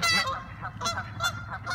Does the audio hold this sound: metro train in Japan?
no